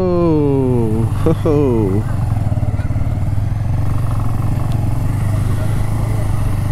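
A motorcycle rumbles loudly and close at low speed while it is ridden to a parking spot near a hill fort, its engine pitch climbing and dropping as it shifts during the first two seconds and then settling into a steady, throbbing idle.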